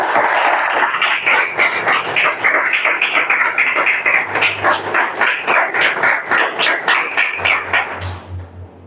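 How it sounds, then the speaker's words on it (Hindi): Students clapping in a classroom, a rapid, rhythmic run of claps that stays loud and close for several seconds before stopping abruptly. "ताली बजाओ सिलिकॉन के लिए।"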